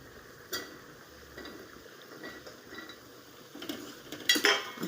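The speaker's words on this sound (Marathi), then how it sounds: "हे बघा, आता ते चिरलेलं दोडका टाकून घेऊया." Chopped ridge gourd goes into tomato masala in a pan and is stirred with a metal spoon, giving faint scrapes and a few sharper clinks against the pan, with no voices.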